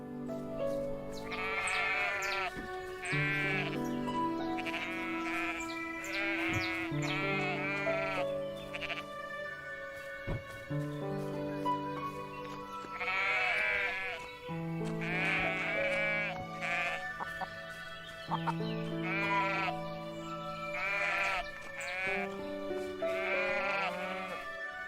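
Sheep bleat repeatedly in the farming game Everdream Valley, a steady run of overlapping calls over constant game background music, fairly close and loud throughout.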